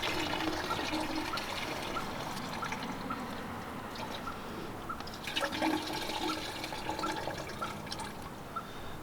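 Gray water draining from an RV tank through a sewer hose, a steady rushing and gurgling flow with occasional splashy surges, fairly close and continuous throughout.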